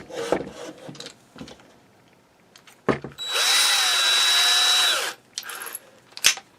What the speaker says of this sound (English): I'm going to take a drill.